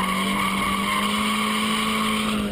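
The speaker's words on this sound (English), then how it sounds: "the car will start to slide" Car drifting with its rear tires sliding, a sustained loud tire squeal and engine drone held steady throughout the short stretch, with no talking.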